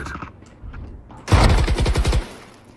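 Gunfire in the Valorant shooter game, a close, loud rapid burst of several shots following quieter game sounds.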